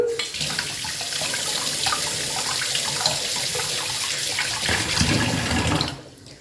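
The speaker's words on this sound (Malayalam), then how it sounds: "ഇനി നമുക്ക് സ്പൂണ് കഴുകാം" Tap water runs steadily into a sink while a spoon is washed under it, a continuous close splashing hiss for about six seconds that cuts off abruptly near the end.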